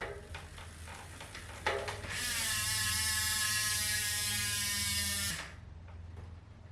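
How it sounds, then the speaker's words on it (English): A high-engagement ratchet hub on a bike wheel freewheels with a dense, rapid buzzing click that starts abruptly, holds loud and steady for about three seconds, then stops, with scattered lighter clicks before and after. "those ratchets really start firing away and sounding like your typical high engagement ratchet hub"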